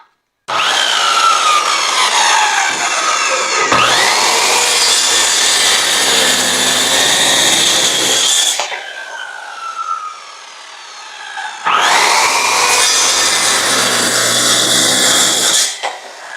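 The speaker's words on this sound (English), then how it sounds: "this thing is going to be taxing for this little cheap Craftsman saw to cut through" A cheap Craftsman power saw cuts through 1.5-inch-thick hard maple in two loud, sustained whining passes with straining pitch changes, separated by a quieter spell of the saw spinning down and idling.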